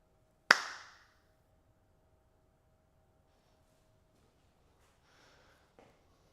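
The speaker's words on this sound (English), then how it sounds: "let's do just a clap test" A single sharp hand clap rings out close to the microphone for an audio sync test, followed by a short decay, then near silence with a faint brief rustle at the end.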